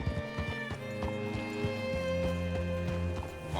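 Horse hooves in Red Dead Redemption 2 clip-clop in a steady rhythm over a sustained tonal musical backdrop, close and moderately loud, with no voices.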